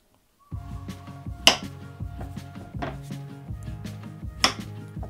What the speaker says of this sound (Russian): Сейчас нам нужно вот эти овощи нарезать приблизительно одинаковыми кружками. Сначала кабачок